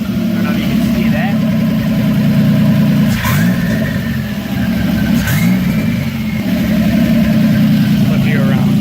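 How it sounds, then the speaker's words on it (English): A Pontiac Fiero idles steadily at a car show, its low engine rumble continuous and fairly loud throughout, with a person talking over it. "it looks like whenever that fiero sits here in idle"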